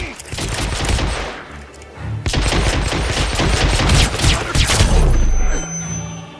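Enemy gunfire in the video game Hitman Absolution crackles in rapid automatic bursts and single shots, loud and close, breaking off briefly before resuming and then fading out.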